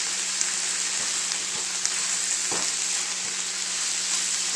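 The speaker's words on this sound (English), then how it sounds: "So I want to flip them as much as I can in my skillet." Onions caramelizing in a skillet for a grilled cheese, giving a steady bright sizzle with faint scraping and tossing sounds as they are flipped.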